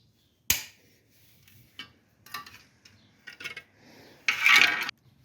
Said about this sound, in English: Start by removing my bash plate.